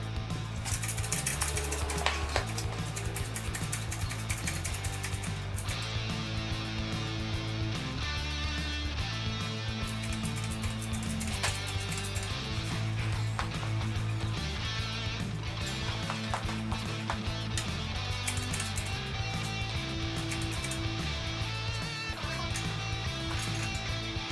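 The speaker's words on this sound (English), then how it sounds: "we'll now take it on over here to our hydraulic bender" A hydraulic bender works on a boosted tunnel ram intake tube, with steady mechanical grinding and ratcheting rising and falling through a long stretch of loud, close shop noise and no talk.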